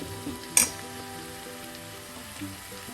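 Okra and potato frying in a pan, a soft steady sizzle with a brief sharp clink near the start, faint and close with no talking.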